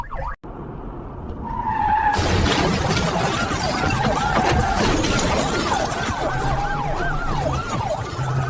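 Wailing emergency sirens at a highway crash scene rise and fall continuously, loud and close, over a roaring rush of traffic and skidding tires, with several sirens overlapping.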